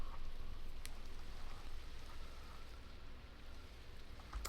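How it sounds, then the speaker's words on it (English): Steady rain falls in Minecraft, a continuous soft hiss of drops at an even, moderate level with no talking over it. "And can we sleep through that rain?"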